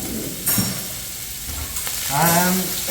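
Yakinishi fried rice stir-fried in a pan, giving a steady sizzle with scraping and clattering bursts as it is tossed and mixed, loudest toward the end.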